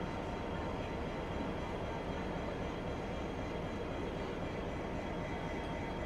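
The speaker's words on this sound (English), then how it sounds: "So we have a A60 departing platform 7" A60 electric passenger train departing platform 7 at Strathfield station, a steady broadband rumble and rail roar at moderate distance, continuous throughout with no talking.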